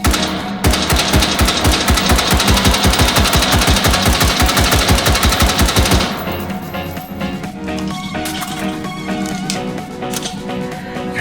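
An M16/AR-15 fired on full auto in H3VR, a loud rapid string of evenly spaced shots lasting about five seconds, then a sudden stop into quieter mechanical clatter and ringing.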